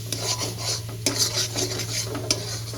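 Ground spices being stirred and sautéed in a pan over low to medium flame, with a spoon scraping and clinking against the pan in quick, close strokes over a soft, steady sizzle and a low hum.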